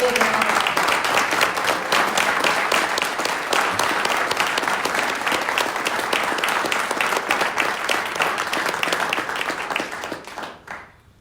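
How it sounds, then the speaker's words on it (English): A large audience at a county Republican debate gives the two candidates sustained, dense applause with many hands clapping, loud throughout and tapering off near the end. "Give them a really big round of applause."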